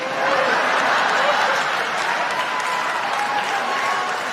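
A comedy club audience at a Dave Chappelle stand-up show applauds steadily, a dense wash of clapping mixed with scattered laughter and crowd noise, loud and continuous throughout.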